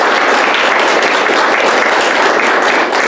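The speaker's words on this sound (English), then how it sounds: "We give yourselves a round of applause." A speech competition audience gives loud, sustained applause, a thick continuous wash of clapping that holds at an even level from start to finish.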